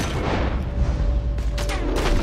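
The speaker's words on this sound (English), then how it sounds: "Looks like we're shooting our way out of here, fellas!" Gunfire in Red Dead Redemption 2, heavy booming shots over a dense, rumbling shootout, with a couple of sharper cracks toward the end.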